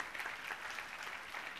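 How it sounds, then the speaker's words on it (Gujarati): Applause from an audience at a Gujarati art festival event, a steady wash of clapping filling the short moment at moderate level, with no voices on top. "એની માટે એકવાર જોરદાર તાળીઓ થવી જોઈએ."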